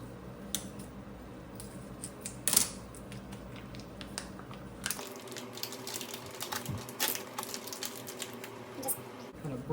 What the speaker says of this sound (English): And then cut your package open.